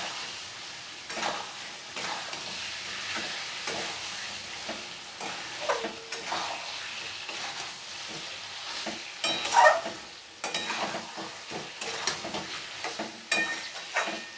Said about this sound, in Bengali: আদা বাটা, রসুন বাটা, জিরে বাটা, ভালোভাবে কষিয়ে নেব এটাকে।